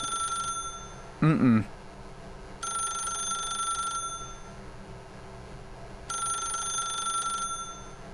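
A telephone rings in a video game, two long bursts of bright electronic trilling separated by a pause, with a brief burst of speech between them over a steady background hum.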